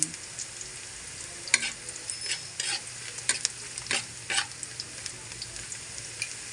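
Chicken sizzles gently in a pan, with a quiet steady fry under intermittent scraping strokes of a utensil being stirred through it, close and fairly soft.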